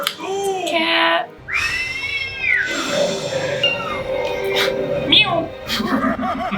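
Cartoon cat meows, drawn-out and whiny, cut in with excited voices and a clear whistle-like cry, all loud and close, from an episode of My Little Pony: Friendship is Magic.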